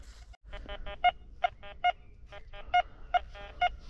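Short electronic beeps from a metal detector ring out in quick repeated bursts over a buried copper find outdoors, a pattern of tones with a few stronger, higher pulses, fairly faint against quiet background noise.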